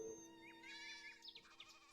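Sheep bleat in a quiet, wavering cry during a 2nd grade school stage play, short and fairly faint, with no talking over it.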